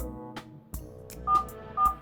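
Keypad tones from a flip phone as someone dials a number, several short beeps and clicks spaced unevenly, with two brighter, louder tones near the end, close and clear with no talking.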